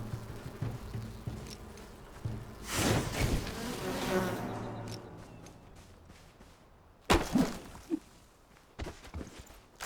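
A swarm of bees drones loudly in a video game, the buzz swelling and fading over several seconds while thumping footsteps and other game noises sound around it.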